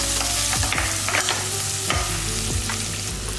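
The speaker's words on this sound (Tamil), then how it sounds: "பாருங்க வெங்காயம், பச்சை மிளகாய் எல்லாமே இந்த அளவுக்கு நல்லா வதங்கிடுச்சு" Small onions and green chillies sauté in a pan, with a continuous close sizzle and repeated scraping stirs of a spoon across the pan.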